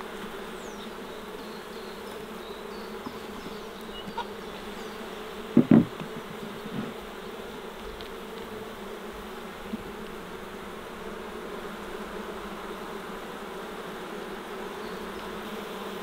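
Honey bees buzz around a beehive during varroa treatment, a steady, soft, close swarm drone with a couple of brief knocks near the middle.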